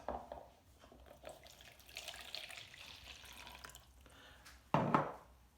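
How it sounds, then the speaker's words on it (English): One cup of water trickles and splashes softly into a bowl of yeast, with a brief louder splash near the end; quiet and close. "I'm going to add to that yeast 1 cup of water."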